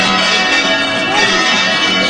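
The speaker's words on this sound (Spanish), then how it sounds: "El tañir de las campanas cada vez es más intenso" Church bells ring dense and continuous before a San Isidro Labrador pilgrimage mass procession in Prado del Rey, a loud metallic peal filling the whole stretch.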